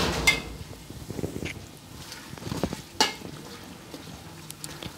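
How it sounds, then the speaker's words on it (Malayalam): Lemon pickle masala stirred in a pan over a low flame, giving a quiet sizzle with intermittent spoon scrapes and light taps, close and fairly soft. "അപ്പം കളറിനൊരു ചേഞ്ച് വരുന്നിടം വരെ നമുക്കൊന്ന് ഇളക്കി കൊടുത്തോണ്ടിരിക്കാം."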